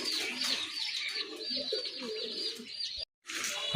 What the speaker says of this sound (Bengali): দেখেন আরেক জোড়া কবুতর, টোটালি কিন্তু এটা আপনার অরিজিনাল দেশি কবুতর